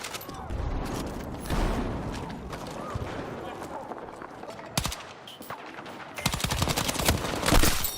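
Bursts of LMG fire from Battlefield 6 rattle through the mix, with sustained automatic volleys and dense gunfire clusters, loudest near the end, under ongoing game noise and talk.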